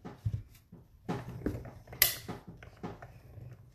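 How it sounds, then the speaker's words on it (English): A small tabletop die cutting machine pressing stitched rectangle dies through paper, giving quiet mechanical clicks, whirring and ratcheting thumps, with one sharp snap partway through. "we're gonna just cut them all out at once using this itty bitty little machine"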